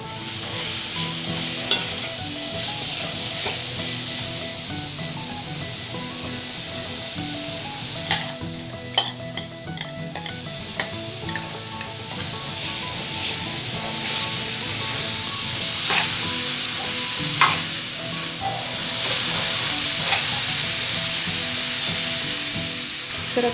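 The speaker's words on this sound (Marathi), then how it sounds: "तर आता मी याच्यामध्ये ॲड करते फणस। थोडं थोडं परतून घेते मी." Tender baby jackfruit sautéing in a pan for a Konkani-style dry vegetable dish, with a loud, continuous sizzle and frequent scraping stirs of the spatula throughout.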